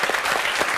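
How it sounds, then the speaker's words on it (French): A studio audience claps for a stuntman after an explosive squib effect, a short burst of close, lively applause. "Merci, on peut l'applaudir"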